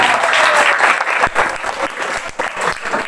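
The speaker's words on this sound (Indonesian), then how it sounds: "Tepuk tangan" Loud, dense applause from a crowd at an Islamic religious gathering marking the Prophet's birthday, many hands clapping together close by in a steady burst that fluctuates slightly toward the end.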